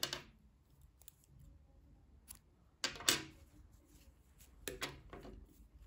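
Scissors snip crochet yarn during work on a baby's waffle-stitch sweater, a few crisp separate cuts spaced over several seconds in a quiet room.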